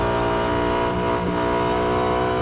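A race car engine at Circuit de Catalunya screams loud and continuous at high revs, with a brief throttle lift causing a short dip in pitch midway before resuming.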